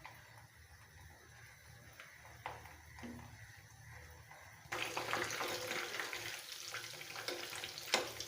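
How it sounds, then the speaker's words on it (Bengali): Sweet potato balls fry in oil: a faint, quiet bubbling sizzle at first, then a sudden louder, denser crackling sizzle midway that continues close up with small pops, without talk. "পটেটো বলগুলো ভেজে নিব, তেলে ছেড়ে দিচ্ছি"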